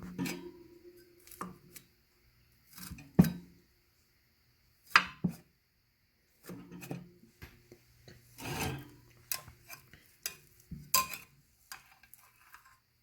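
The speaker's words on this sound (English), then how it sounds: "Let's cut into it and see what the inside looks like." A knife saws and scrapes through a pan of baked fudge brownies with a crackly crust, giving scattered close rubbing and rasping strokes separated by short pauses.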